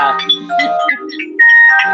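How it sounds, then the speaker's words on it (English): A mobile phone rings with a bright, repeating electronic ringtone for an incoming voice call, loud and close, as a melodic chime pattern. "There goes my stupid phone."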